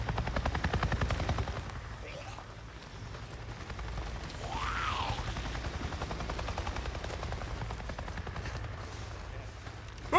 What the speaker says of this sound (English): I just saw a goddamn chopper!